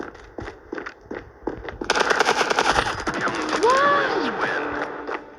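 Rapid automatic gunfire in the video game Standoff 2, preceded by sparse single shots, then a sustained burst of fast rattling fire with someone talking over it.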